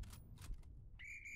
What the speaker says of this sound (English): That is a fallback whistle.